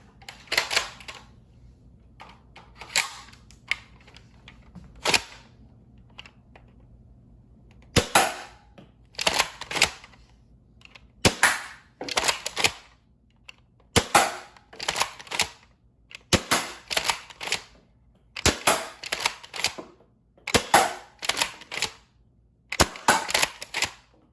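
An Adventure Force Dart Zone Nexus Pro dart blaster fires darts straight out of the box, with sharp, close pops coming in separate clusters of quick shots and short quiet gaps between them.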